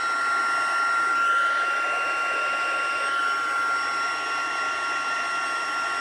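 A heat tool blows a steady, loud, hair-dryer-like whoosh with a high whine as it melts embossing powder on a stamped birthday card, continuing unbroken throughout.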